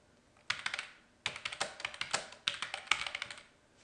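Text is typed on a computer keyboard in quick bursts of crisp key taps, close and clear, with brief pauses between runs and no talking.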